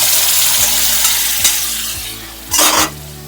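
Tomato puree for a Jain-style paneer cashew curry hits a hot pan, giving a steady hiss of sizzling with soft stirring scrapes and a louder burst of frying near the end.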